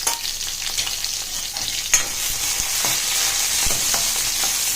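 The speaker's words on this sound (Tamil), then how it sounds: "குடமிளகாய் கொஞ்சம் நல்லா வதங்கட்டும்" Capsicum sautés in hot oil with cumin and crushed ginger for a sago khichdi. A steady close sizzle runs throughout, with a few sharp scraping stir clicks and no talking.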